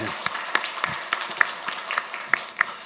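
Scattered, uneven clapping from a church congregation during a Korean Sunday service, individual sharp claps standing out against a thin background rather than a full roar.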